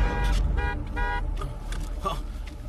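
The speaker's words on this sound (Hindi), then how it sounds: "बजाओ हॉर्न" Two short, loud car horn honks in quick succession, followed by low rumbling street and engine noise.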